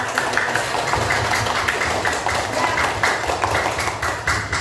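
Classroom clapping, a steady run of hand claps from students with a continuous low rumble underneath, loud and close throughout; a brief spoken word at the start.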